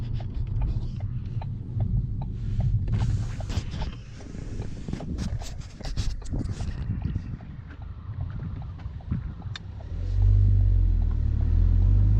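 A Ford Focus ST fitted with a green aftermarket air filter drones and rumbles while driving on a side street with the window down, mixed with wind noise, and the engine swells louder in the last couple of seconds.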